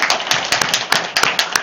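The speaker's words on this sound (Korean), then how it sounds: "그 박수 쳐야지" A small audience at a Buddhist lecture claps by hand, producing a close, brisk patter of uneven claps that continues through the brief moment.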